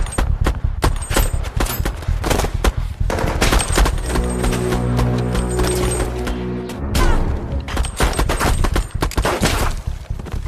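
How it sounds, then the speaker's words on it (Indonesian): Rapid gunfire from a police shootout in an action film, dense bursts of automatic shots and heavy booms hammering throughout, briefly easing into a tonal musical swell midway before the shooting resumes loud and close. "mereka tiba-tiba dihadang oleh polisi sehingga terjadilah baku tembak"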